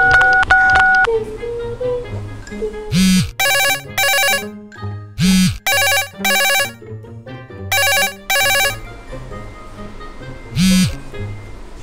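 Telephone ringing indoors, loud and near, a repeating electronic ringtone of bright trilling bursts in short pairs separated by pauses, alongside low thumping tones and a brief tonal beep at the start.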